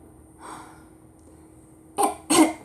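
A human voice imitates a cricket's cough in a children's story reading, with a faint breath followed by two short, close coughs.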